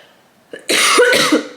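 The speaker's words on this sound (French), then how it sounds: "J'en ai marre de tousser moi" One harsh, loud cough bursts out close by after a short breath.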